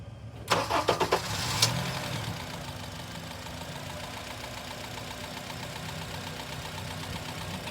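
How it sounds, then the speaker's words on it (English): A Honda car cranks briefly with a few rapid starter chugs before the engine catches, then settles into a steady, even idle that hums on alone for the rest of the stretch. "Okay, let's start the vehicle."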